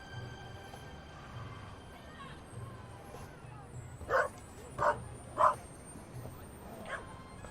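A dog in The Raven Remastered gives three sharp, distinct barks roughly half a second apart, mid-distance and fairly clear above a low murmur of background ambience.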